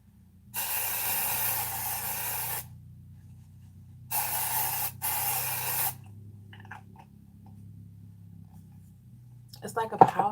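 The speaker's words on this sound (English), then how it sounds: "It's like a powder spray," Instant Recall Invisible Powder Spray hisses in three close, steady bursts, one long and two shorter back to back, separated by quiet pauses, ending with light handling noise.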